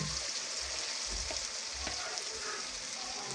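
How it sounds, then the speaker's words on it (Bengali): Tomato frying and being stirred in a hot pan, a steady close sizzle with soft scraping as it cooks down and melts, no voices. "তো দেখুন টমেটোটা গলে যাওয়া পর্যন্ত আমি এটা কষতে থাকবো"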